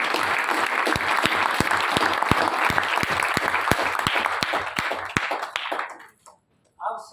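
An audience at a Hindi-language talk on yagya medicine claps loudly and steadily for about six seconds, the applause fading out, followed by a brief voice after a pause.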